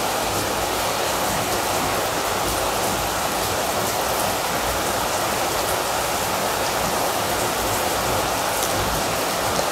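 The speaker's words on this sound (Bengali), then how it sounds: "আজকে বাইরে প্রচুর বৃষ্টি হচ্ছে" Heavy rain falls outside in a dense, steady hiss that stays loud and unbroken throughout, with no voices over it.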